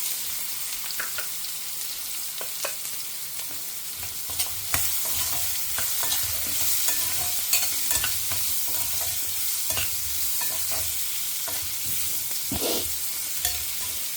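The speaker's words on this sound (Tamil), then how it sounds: "கொஞ்சம் வெங்காயம் வதங்கட்டும்." Onions sauté in hot oil with mustard seeds and cumin for a Tamil methi kadhi, giving a steady close sizzle with occasional stirring scrapes and no talking.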